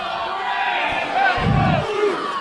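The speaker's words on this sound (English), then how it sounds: "I didn't expect the crowd to be this 50-50 towards Sefa" A wrestling crowd at an FSW show for Sefa Fatu vs Graves cheers and shouts in a loud, dense roar with scattered yells, under a commentator's talk.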